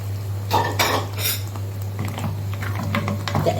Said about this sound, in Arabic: تقليبه حلوه كده.